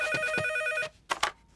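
An old-style home telephone rings with a bright, bell-like trill, one long ring followed by two short bursts after a brief pause, close and loud with no talk.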